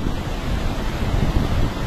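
Heavy, powerful waves at the entrance of Mehdia harbour tossing a fishing boat, a dense continuous wash of surf and wind noise, loud and close, with no voices.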